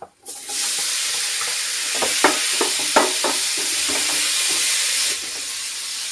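Jackfruit curry sizzles loudly and steadily in a pan with chilli powder added, with a few scraping stirs and clinks along the way before the hiss eases slightly.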